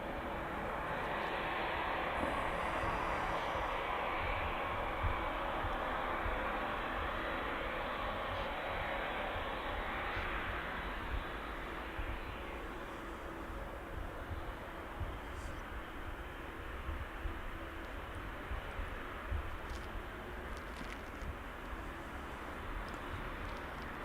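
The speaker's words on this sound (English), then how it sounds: "so the Maersk is taxiing on from Bravo" At Birmingham Airport, a Maersk aircraft taxis past with a steady, broad jet roar that stays fairly constant and distant for the whole stretch.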